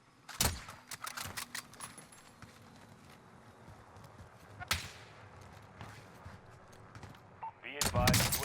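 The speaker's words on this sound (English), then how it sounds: "Stop shooting at me." Gunfire in Call of Duty Warzone, Cold War season 3: scattered sharp shots and short bursts, some loud and close, others fainter, spread through the clip alongside game sounds and players talking.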